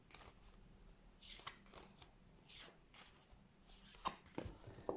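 A deck of tarot cards being cut and handled, producing soft papery riffles and flicks in several short bursts, quiet and close with no talking.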